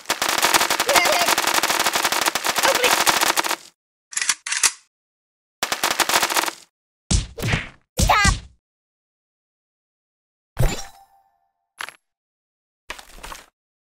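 At a shooting range in the Kick the Buddy video game, a long rapid burst of automatic gunfire is followed by scattered single shots and short bursts separated by silence, with brief cartoonish voice sounds mixed in.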